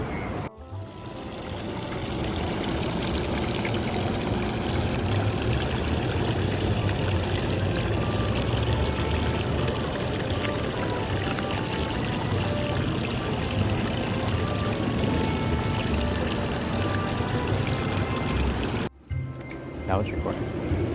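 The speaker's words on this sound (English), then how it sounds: "ASMR shot of the water fountain." An outdoor water fountain splashes in a steady, dense rush of falling water, loud and close, running continuously with no letup before cutting off abruptly near the end.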